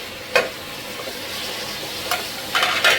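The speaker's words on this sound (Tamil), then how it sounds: "நல்லா வதக்கிக்கோங்க நல்லா தக்காளியை நைஸாக மசிச்சு விட்டுக்கோங்க" Tomatoes and onions sautéed with ginger garlic paste for tomato rice in a pressure cooker, a steady close sizzle with several sharp stirring scrapes and spatula knocks, no talking.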